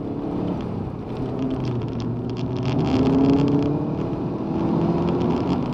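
A Subaru Impreza 22B rally car accelerates, its engine note climbing steadily as revs build, close and fairly loud, with no voices over it.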